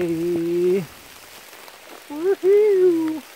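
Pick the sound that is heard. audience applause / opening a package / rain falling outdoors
rain falling outdoors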